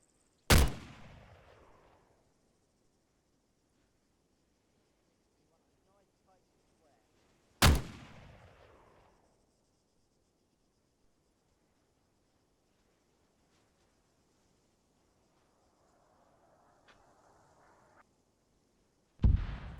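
Three loud, sharp artillery blasts in Arma 3, each followed by a rolling decay, spaced several seconds apart, with quiet gaps and a faint rising whoosh just before the final impact.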